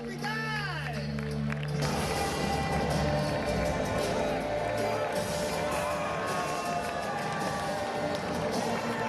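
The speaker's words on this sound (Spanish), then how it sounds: "¡Fuerte el aplauso para el escudero!" Crowd applause and cheering at a medieval jousting tournament in Hospital de Órbigo, León, a dense steady roar of clapping and voices under a loudspeaker announcer.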